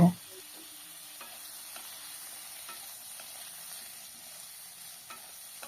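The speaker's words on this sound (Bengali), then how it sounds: "আলুগুলোকে 3 মিনিট ভেজে নেব" Diced potatoes fry in oil with chopped chilli in a pan for cauliflower-potato singara filling, a steady soft sizzle running throughout with repeated light scrapes of stirring, close and continuous with no talk.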